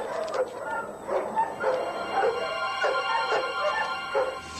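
Many dogs in a kennel housing dozens of animals bark, yip and whine together in a steady overlapping chorus, loud and continuous, with no talking.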